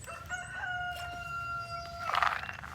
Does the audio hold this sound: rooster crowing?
yes